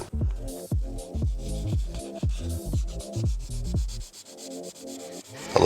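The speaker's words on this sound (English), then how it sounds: "A little bit of wet sanding." Rhythmic wet sanding strokes on the primer and paint of a Mini Cooper S Roadster, a steady back-and-forth rubbing with a slight squishy, wet texture, close up, ending in a brief pause.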